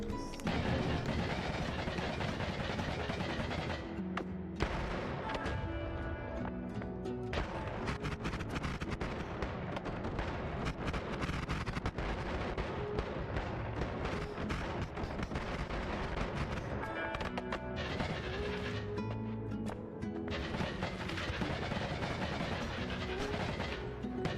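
Candelabra wand firing in the video game Noita, a sustained dense barrage of explosive crackling and booming blasts that fills the whole stretch at steady high loudness, with brief dips between volleys.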